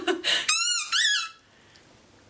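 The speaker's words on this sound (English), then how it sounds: "These are the big squeaker balls." A Kong squeaker ball dog toy gives two loud, high-pitched wavering squeaks in quick succession close up, followed by quiet; a brief noisy sound just before.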